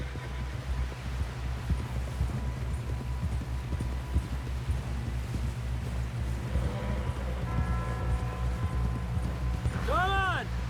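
Horse hooves clip-clop steadily at a run in Red Dead Redemption 2, a continuous rhythmic beat under game music and ambient hum, with a brief whinny-like call near the end.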